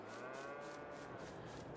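Cows mooing inside a barn in the Farming Simulator video game, a sustained low bovine moo under faint background ambience, no talk.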